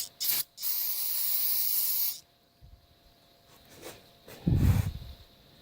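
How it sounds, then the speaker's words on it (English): Brake cleaner sprayed from an aerosol can on a sweeper, a short hiss followed by a longer steady close spray burst of about two seconds, then quiet handling noises and a dull knock. "And take some brake cleaner."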